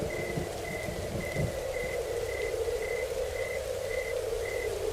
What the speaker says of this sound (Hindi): हल्की हल्की बारिश शुरू हो गई